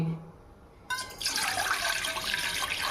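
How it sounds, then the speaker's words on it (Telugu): A glass of water is poured into a cooking pot on the stove for sago payasam; after a quiet moment the pour starts abruptly, a close, splashy rush of liquid that fills the rest. "ఇదిగోండి వాటర్ ఒక గ్లాసు పోసాను"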